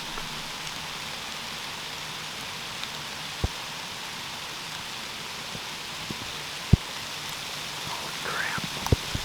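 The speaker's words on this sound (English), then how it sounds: "It's like little pellets of snow." Snow pellets fall steadily outdoors during a New York bow hunting season, a soft continuous hiss of tiny impacts with a few sharper ticks and taps nearby, fairly faint.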